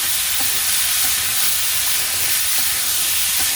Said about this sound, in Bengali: এই পাশে আমি কষাইতে থাকি এই সবজিগুলো